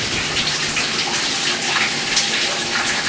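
Cold tap water gushes steadily from a faucet during a hair rinse, a continuous broadband rush with no breaks across the whole stretch.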